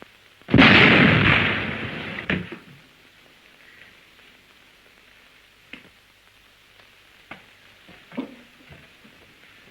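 A single loud gunshot from a handgun bursts out and rings off, followed by a few faint clicks and small knocks in a quiet room, with no talking.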